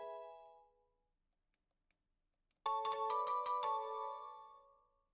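Heal Bell move in Pokemon XD: Gale of Darkness, a bright ringing chime of several rapid struck bell tones that sustain and fade, heard alone after a brief earlier tone and a pause.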